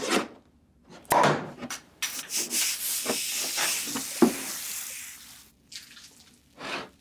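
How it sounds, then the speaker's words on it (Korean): A drink is poured and stirred into a glass, with intermittent splashing, clinking and rubbing sounds close by, broken by brief quiet gaps. "제가 시원하게 한 잔 말아드리겠습니다."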